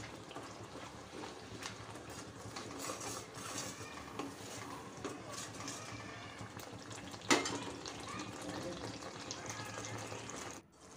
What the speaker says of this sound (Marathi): आता आपला हा जो सर्व मसाला आहे तेल सुटेपर्यंत आपल्याला छान असा परतून घ्यायचा आहे।